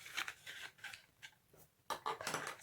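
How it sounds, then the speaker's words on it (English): Scissors snip through scored paper card while making a gift box, several close, crisp cuts in uneven bursts with short pauses between, quiet and without talk. "we're going to cut up here to that score line"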